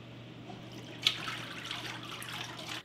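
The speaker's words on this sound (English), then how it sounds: "The pulp is drained from the beater and poured into vats." Wet paper pulp drained from a beater and poured into vats, a continuous watery pour and trickle with a splashy onset, steady throughout and then stopping abruptly, with a low hum underneath.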